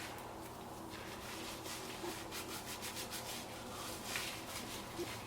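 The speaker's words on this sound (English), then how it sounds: "I just worked mine in, make sure I massage it in really well." Hands rub and massage product into hair on the scalp, making a steady close, soft scratchy friction with rhythmic strokes, quiet and without speech.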